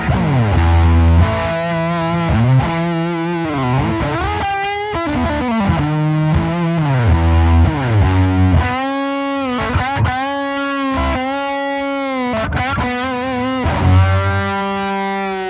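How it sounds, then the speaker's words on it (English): Electric guitar playing a melodic line through a fuzz pedal's thick tone, sustained notes bending and gliding, steady and loud with no voices. "That's the fuzz thing, and it sounds like this."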